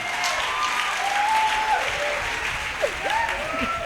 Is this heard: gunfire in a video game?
no